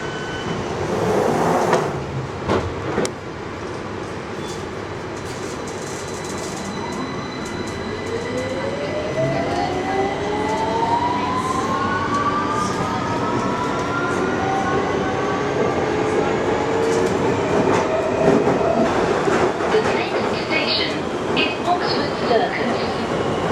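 A London Underground Victoria Line train to Brixton rumbles steadily, with long gliding wheel-squeal tones rising and falling over the clatter while a voice speaks.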